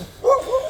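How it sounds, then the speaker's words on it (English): A local dog in a village in Nuku'alofa, Tonga lets out a single short bark, fairly close and clear, with a quick yelping tail. "Look at the local dogs."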